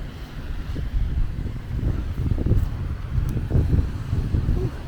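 Wind gusts buffet the microphone during a snowy winter walk past new condo construction, a low rumbling roar that swells and fades in waves.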